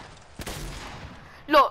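A single sharp gunshot in a video game, close and punchy with a short decaying tail, followed a moment later by a brief voice.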